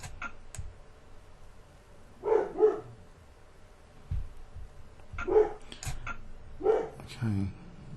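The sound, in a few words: dog barking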